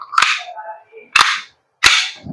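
Kjworks KP-07 1911 MEU airsoft gas blowback pistol firing three sharp, close shots spaced about a second apart, each a crisp pop with a short hiss of gas and slide clack.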